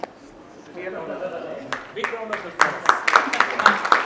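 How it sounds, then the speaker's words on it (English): An audience at a conference breaks into scattered clapping that builds over the last couple of seconds, overlapping a speaker's voice. "And that really calls for a round of applause"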